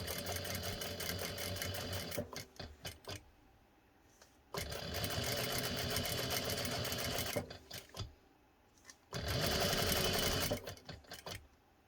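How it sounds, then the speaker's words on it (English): A sewing machine stitching ribbon onto cat collar webbing runs in three sustained bursts separated by short pauses and a few quick stop-start stitches, close and clear. "I'm just gonna sew on the edge, making sure that my ribbon stays aligned as perfectly as possible to the webbing."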